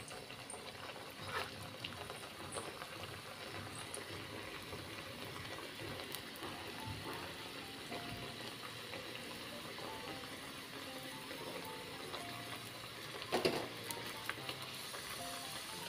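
Puri frying in hot oil in a small kadhai makes a faint, steady crackling sizzle like light rain that runs throughout, with a brief louder bubbling flare near the end.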